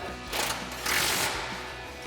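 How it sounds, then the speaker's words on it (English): A 10mm socket on a ratchet tightening the brake bracket bolt on a 2005-2014 Ford Mustang: quick, close mechanical clicking bursts in two short runs, with no talk. "And we'll tighten that back down with our 10mm socket."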